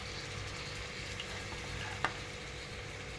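Onions frying in a pan with salt, a steady low, soft sizzle running through without pause, with one brief clink partway through.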